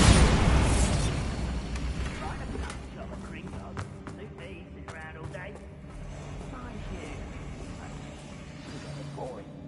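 Bombarda explosion spell in the video game Hogwarts Legacy, a loud booming blast at the very start that rumbles and fades over a few seconds, followed by faint scattered pops and clatter.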